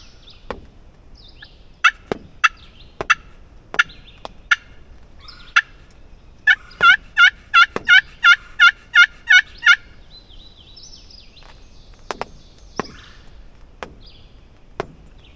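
A wild turkey gobbler gobbles in spring woods during a rainy hunt in West Virginia, several loud rattling gobbles in a quick burst amid scattered sharp knocks and taps, with no talking.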